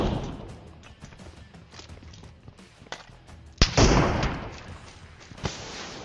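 Gunfire in PUBG Mobile, including an M24 sniper rifle headshot: scattered distant shots, then one sharp loud crack followed by a burst of louder blasts and a final sharp report.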